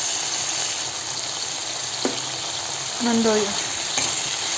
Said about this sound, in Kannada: ಟೊಮೆಟೊ ಸ್ವಲ್ಪ ಚೂರು ಎಣ್ಣೆಯಲ್ಲಿ ಫ್ರೈ ಆಗಬೇಕು.